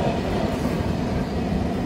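A train passes close by a trackside spot, a loud steady rumble and rattle of wheels with no voices.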